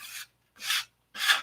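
Three separate strokes of coarse sandpaper rasping across wood during an airplane build, each one short and scratchy with a brief quiet pause between, heard close up.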